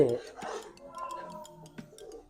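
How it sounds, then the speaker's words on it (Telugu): A spatula scraping and clinking against a pan of simmering prawn gravy, a few soft close stirs with light metallic taps, while a person speaks briefly over the start. "దీన్ని ఇప్పుడు ఇది ఇలా తిప్పుతూ ఉండాలండి"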